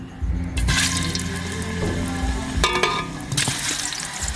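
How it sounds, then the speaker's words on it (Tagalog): Bananas fry in a pan, a steady close sizzle and crackle of oil, with brief clattering and watery splashes as the pieces shift. "Magprito na po tayo ng saging."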